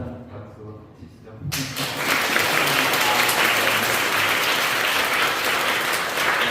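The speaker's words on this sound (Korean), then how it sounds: "박수 치시죠." Applause breaks out at a Catholic church ceremony honoring catechism teachers, beginning abruptly after a quiet stretch and then swelling into sustained, dense clapping from a large congregation that fills the rest of the moment.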